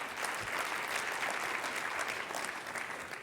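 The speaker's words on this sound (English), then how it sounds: "So please give yourselves a round of applause" Audience applause fills the room in a steady, dense round of clapping from a crowd at a corporate community event, loud and sustained throughout with no talk over it.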